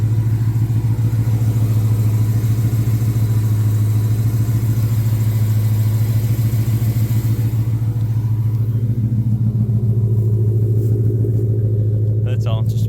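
A loud supercharged 2018 Ford F150 engine with Roush exhaust idles steadily with a deep, throaty rumble, close by, the tone shifting slightly near the end.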